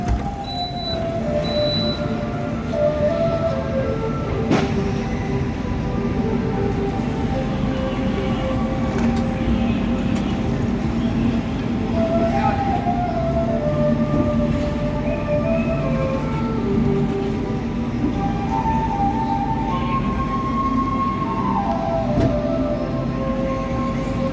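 The Argo Bromo Anggrek train pulls into platform 1 at Semarang Tawang station, a continuous low rumble of rolling wheels with drifting squeals and tones over a steady, close hum.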